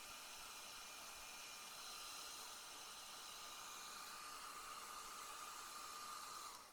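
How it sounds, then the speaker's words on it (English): A blow dryer runs steadily throughout, drying alcohol ink on a mug, a broad airy hiss with a faint whine, constant and close, no voices. "Now we're using the blow dryer here to solidify the gradient on the mug."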